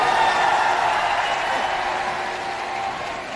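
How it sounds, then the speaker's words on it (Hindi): A crowd at a BSP rally in Atarra, Banda applauds to welcome Mayawati. The applause is a dense, sustained wash of clapping that holds steady and fades slightly toward the end, heard at some distance with no clear speech. "ताली बजाकर जोरदार स्वागत करते हैं"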